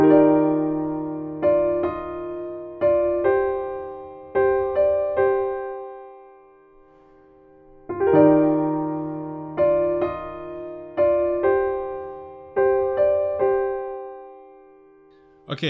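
Solo piano plays two phrases of ringing chords and single notes that decay between strikes, with a deep held low note opening each phrase, clear and close with no voice.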